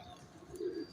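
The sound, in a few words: pigeons cooing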